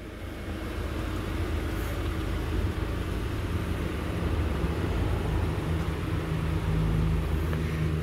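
A car reversing into a parallel parking space during a driving lesson: a steady low engine hum with faint road rumble runs throughout, fairly close and even, with no talking.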